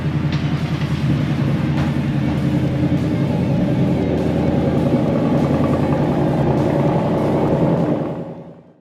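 Ford Performance cars lapping a roval racetrack with banking and chicanes during instructor-led sessions, a steady, loud engine drone with shifting pitch that holds for several seconds before fading out.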